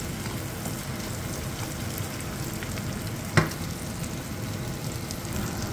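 Onions sauté in oil in a pan for homemade chilli chicken, a steady close sizzle throughout with one sharp utensil clink partway through and no talking.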